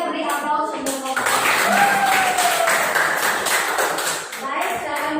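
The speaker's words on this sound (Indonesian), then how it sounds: "Tadi kita beri aplaus untuk kelompok" Students in an Indonesian classroom applaud a group, a burst of scattered hand claps lasting a few seconds over room noise, with a teacher talking before and after.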